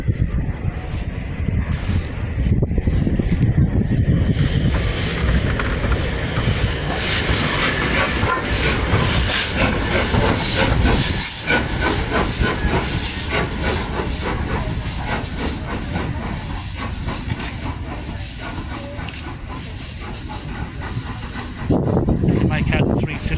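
A three-cylinder A1 steam locomotive working hard, its rapid, even exhaust beats, six per wheel revolution, running under a loud continuous hiss of steam and rail noise as people chat nearby.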